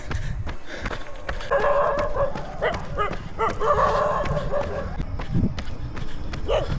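A house dog barks repeatedly and rushes at a runner during a marathon training run on a road, with close, sharp barks and yips over footsteps and breathing.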